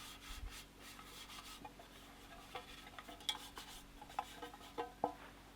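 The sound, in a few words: rubbing flour around the sides of a baking tray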